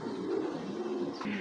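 A club racing pigeon coos close by, one soft, low, throaty rolling call that carries on without a break for about a second and a half.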